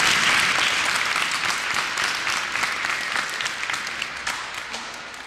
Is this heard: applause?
yes